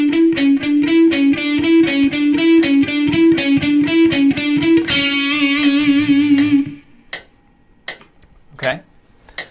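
Electric guitar picked in a clean, tightly synchronized rhythm, a steady run of evenly spaced notes for several seconds, then stopping abruptly, followed by a few scattered faint handling sounds.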